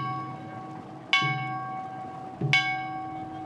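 Two clear strikes of a festival bell about a second and a half apart at the Hojo Kashima festival in Ehime, Japan, each ringing out with a long, shimmering decay over quiet background.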